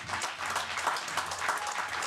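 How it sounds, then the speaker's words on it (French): Audience applause at the final of a pétanque festival in Saint-Juéry: a steady wash of clapping from a crowd, moderately loud and continuous through the clip, with no voices standing out. "Vous allez applaudir Monsieur Gilles Bonucci."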